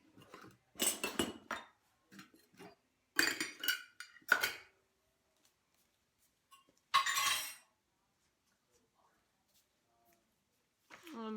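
Dishes, pans and cutlery clink and clatter in a few loud bursts as a kitchen counter is cleared for baking vegan biscuits, with quiet pauses between the clusters.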